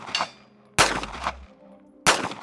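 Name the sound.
shots fired from $6000 handgun with iron sights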